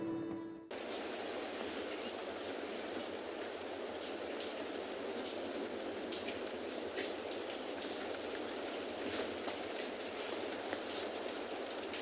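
Steady rain falls outdoors at a penguin beach, a constant, even hiss of drops that stays unbroken after a brief opening moment.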